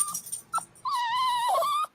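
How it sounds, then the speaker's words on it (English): A dog whimpers close by, giving two short high yips and then a long, wavering whine that rises and falls before cutting off. "She's so vocal, this dog."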